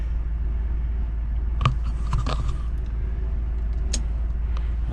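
A 1994 Fleetwood Flair 32-foot diesel pusher motorhome idles with a deep, steady low rumble, joined by a few short clanks and hisses as it begins to move, heard fairly quietly from inside.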